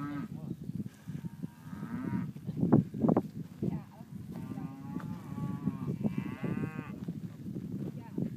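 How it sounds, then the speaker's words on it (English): Cattle on a ranch lowing in a series of drawn-out moos, some near and some farther off, mixed with faint bleat-like calls while people talk quietly in between. "Oh, say, look at those cows."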